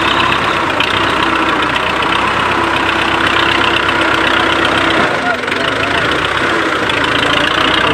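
A tractor engine runs steadily while a trolley is loaded with hard-packed soil, giving a loud, continuous mid-pitched diesel drone with a knocking idle character close by, with voices talking over it.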